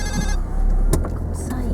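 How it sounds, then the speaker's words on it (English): A telephone rings briefly from outside a car, a bright repeating trill heard at the start over engine rumble inside the vehicle, followed by a short thump. "that was not Jan's phone ringing on video. It was outside the car."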